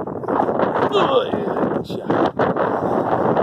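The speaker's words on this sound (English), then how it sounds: "Oh, very windy" Wind buffets the microphone in a steady, rough roar with gusty surges throughout, loud and close.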